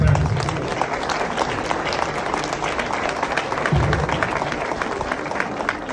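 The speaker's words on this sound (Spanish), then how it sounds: "Por favor, un aplauso para todos ustedes que están participando y también para nosotros." An audience at a school event on upper secondary education claps together, a broad wash of many hands that stays fairly steady, with some faint voices mixed in beneath the clapping.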